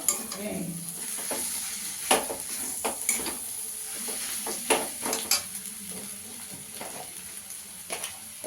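Steady sizzling of onion and green chilli frying in a pan for egg chops, with intermittent stirring scrapes and light clinks, fairly close, no talking.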